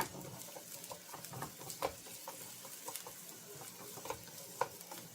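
Marinated meat and onions stirred in a pan of hot olive oil, with a steady low sizzle broken by soft scraping and scattered clicks of the utensil, quiet and close.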